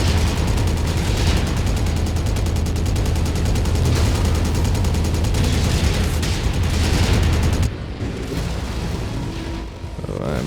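Sustained machine gun fire from a mech in MechWarrior: a loud, rapid, unbroken rattle of shots over heavy rumbling battle noise, cutting off abruptly to quieter ambience near the end.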